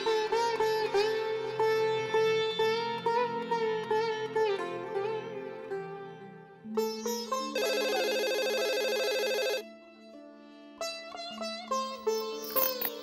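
A telephone rings with a repeating electronic ringtone, several bursts of melodic tones with short pauses between them, fairly loud and alone without talk.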